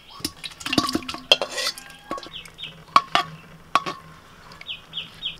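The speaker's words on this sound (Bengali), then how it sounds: "এবার পুরো চিকেনটা আমি দিয়ে দিচ্ছি হাঁড়ির মধ্যে।" Clattering of utensils and metal against a pot, with scraping and clinking as chicken pieces are stirred into a Hyderabadi chicken biryani pot, while birds chirp faintly in the background.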